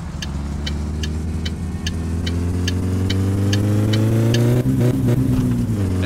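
A car engine in the video game My Summer Car runs loud and close, its pitch climbing steadily as it revs through gears while the car struggles to pick up speed from cold, with a faint rhythmic ticking above and no speech.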